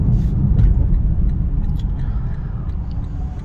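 A Lexus LC500 with its V8 engine drives on the road, heard as a steady, loud low rumble of engine and road noise from inside the cabin that eases slightly toward the end.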